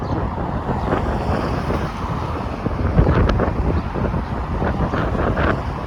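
Strong wind buffets a microphone outdoors along Rexdale Boulevard in Etobicoke, a continuous low roaring rumble with gusts swelling and easing, no speech.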